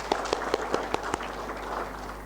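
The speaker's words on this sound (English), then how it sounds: "One more clap for Professor." A meeting audience gives a short round of applause closing an event, with about six distinct sharp claps standing out over a steady background murmur before fading into room noise.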